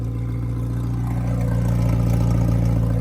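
A McLaren 720S fitted with a Fab Speed exhaust, otherwise stock, idles close by with a steady, deep, even rumble and no talking.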